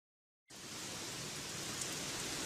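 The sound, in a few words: heavy rain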